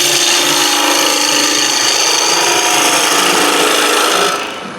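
Wood turning tool cutting a spinning workpiece on a lathe at a woodturners' club demonstration, a steady loud rasping scrape with chatter that runs continuously, then eases off at the end.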